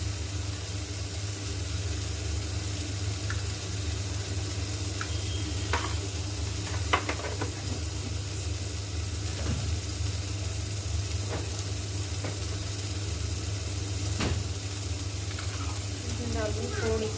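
Vegetables sizzle steadily in a hot pan on a home stove, with occasional scraping and clinking as a spoon stirs them; the frying hiss runs constantly under faint talk.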